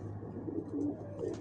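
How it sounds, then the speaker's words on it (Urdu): A gift pigeon from Dubai coos softly and close by, giving a few low, rolling coos in quick succession over a faint steady hum. "تو یہ ہے وہ کبوتر"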